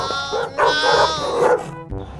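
A dog barks and yelps close by in a short burst of a few loud, strained barks, with a voice mixed in.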